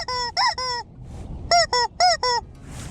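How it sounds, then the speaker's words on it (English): A rubber chicken toy is squeezed on a catfish fishing boat, letting out loud, close, honking squeaks: three quick ones, a short pause, then four more. "every time we catch a fish on chicken, we're gonna squeeze the chicken"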